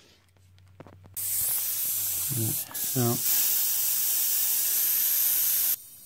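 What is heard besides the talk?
air hissing into expansion tank from compressor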